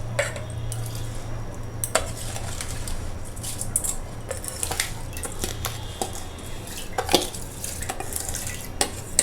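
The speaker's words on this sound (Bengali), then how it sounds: "প্রথমে আমরা এই আতপ চালগুলো দিয়ে দিচ্ছি।" Sun-dried rice is tipped into a pot of water on the stove, giving close clattering and scraping with sharp ticks and knocks against the vessel over a low hum.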